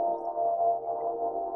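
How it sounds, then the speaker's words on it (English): Music derived from the human genome sequence plays as a brief, soft, sustained synthetic tone with steady harmonic layers, heard alone. "is the music of our DNA."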